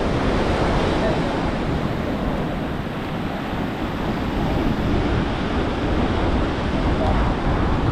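Rough sea waves surge and crash loud and close off the Mumbai coast during cast net fishing, a continuous roaring wash mixed with wind buffeting the microphone.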